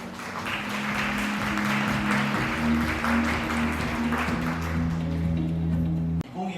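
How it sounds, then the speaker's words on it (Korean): An audience at Korea University's Global ESG Forum claps steadily as the chairman is welcomed onto the stage, a dense burst of applause over tonal background music that ends abruptly near the close. "박수와 함께 오경식 대회장님을 무대 위로 모시겠습니다. 박수 부탁드리겠습니다."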